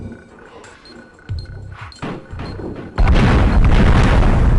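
Grenade and landmine explosions in the video game Oddworld: Abe's Oddysee: several deep booming thumps, then a loud sustained blast of rumbling noise that fills the final stretch.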